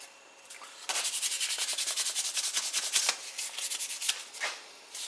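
Sandpaper rubbed briskly over a handmade needle cut-off tool, a steady rapid series of close, rasping strokes running almost continuously with a few brief pauses.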